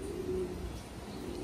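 A pigeon from a prized racing breeding pair gives a low, soft coo up close, a brief murmur in a quiet loft with no one speaking.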